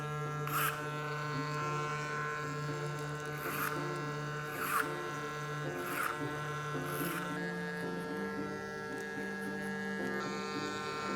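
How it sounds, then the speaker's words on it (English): Electric hair clippers buzz steadily during a haircut, with a constant motor drone and short brighter bursts as the blades pass through hair, heard close and without talk. "That's what these clippers are good for."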